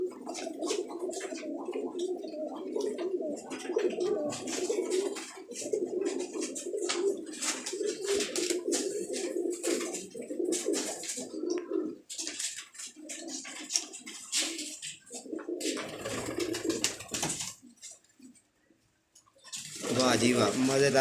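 Paired pigeons coo repeatedly, nearby and fairly loud, while someone talks over much of the sound, with a brief lull before the cooing and chatter resume.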